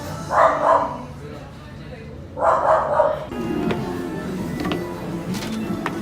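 A small dog barks in two short bursts of sharp yips a couple of seconds apart, close and loud, followed by quieter background noise as people talk nearby.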